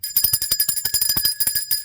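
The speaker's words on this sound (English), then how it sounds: "And let me ring the bell." A bell rings repeatedly in quick succession, bright metallic strikes with sustained high overtones layered over each other, fairly loud and close.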